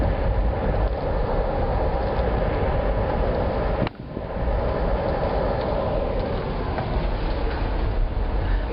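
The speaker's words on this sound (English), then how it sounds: "Because we're on the train." A steady low rumble and rattle from inside a moving passenger train dome car after leaving Union Station, continuous, with a brief dip midway and no voices.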